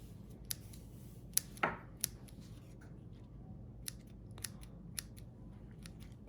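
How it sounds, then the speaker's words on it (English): Scissors snip off excess ribbon after a knot is tied on a paper craft kit, giving a series of sharp, fairly quiet clicks and cuts spaced irregularly over a soft background. "And just cut off the excess"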